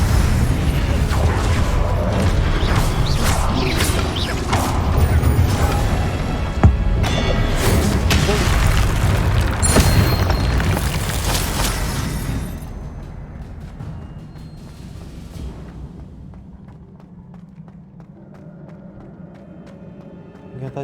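A fire spell cast in the Hogwarts Legacy video game: loud, dense whooshing bursts and booms with mechanical clatter for about twelve seconds, then fading to a quieter rumbling game ambience with scattered crackles.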